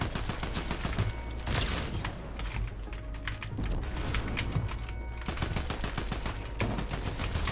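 Rapid bursts of gunfire in a Fortnite match, crackling shots stacked densely and continuously at close range with a few sharper cracks, no talk over them.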